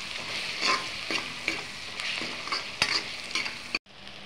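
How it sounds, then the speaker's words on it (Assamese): Ground cumin and other spices stirred and fried in a pan with a spoon, close up: repeated scraping strokes over a soft steady sizzle, ending abruptly near the end. "এয়া ধুনীয়াকৈ মিলাই কৰি ভাজি লওঁ।"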